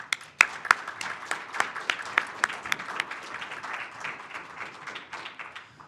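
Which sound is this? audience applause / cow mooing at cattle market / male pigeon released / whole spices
audience applause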